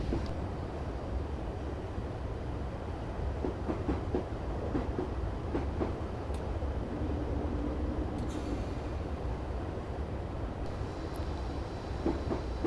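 A train rolls along a main line in Train Simulator 2015 with a steady low rumble and soft clickety-clack from the rails, plus a few faint clanks and a brief hiss.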